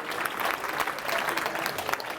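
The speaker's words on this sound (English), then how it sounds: "You guys clap it up for all of our veteran icon dinosaurs" An audience at a sales coaching seminar claps, giving a short burst of dense, steady applause with a faint voice mixed in.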